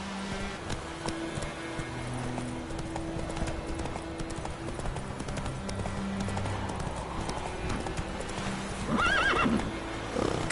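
Roach the horse galloping in The Witcher 3, rapid rhythmic hoofbeat clip-clop over game ambience, ending in a loud neigh near the close.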